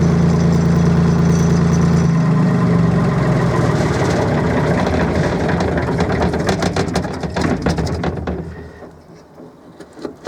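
A heavy Aveling Barford GRT road roller engine idles loudly nearby with a steady low chug, then knocks and clatters unevenly before quieting toward the end.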